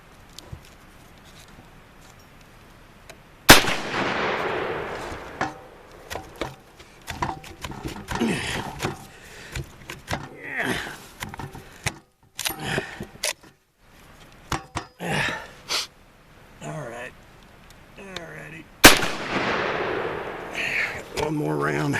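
British WWI Lee-Enfield bolt-action rifle in a mud test, with two sharp loud shots about fifteen seconds apart and scattered clacks of the bolt being worked between them.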